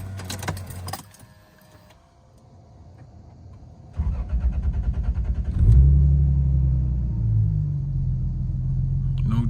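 A Lexus GS300 2JZ engine with a cold air intake cranks and catches, then settles into a steady, loud idle rumble close by, with a faint jingle of keys early on.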